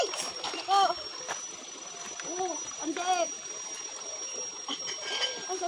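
Water splashes and sloshes in a shallow, cold stream as clothes are washed, while voices talk and exclaim over it, with a thin high whine running throughout.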